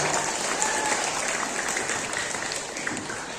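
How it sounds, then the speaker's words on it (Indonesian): Applause from a school audience at a ceremony in a junior high school hall, a steady, dense clapping that carries on evenly for the whole stretch with no voices over it. "Kita berikan aplaus."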